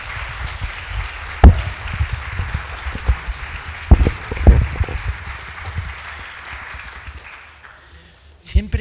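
An audience at a conference on the Mexican and Russian revolutions claps to welcome a speaker, a scattered, uneven applause with sharp individual claps that gradually thins out and fades.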